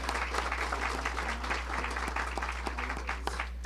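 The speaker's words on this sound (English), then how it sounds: "let's go ahead and give them an applause as well" Moderate audience clapping outdoors at a ribbon cutting in Loveland, steady and mid-distance, over a low constant hum.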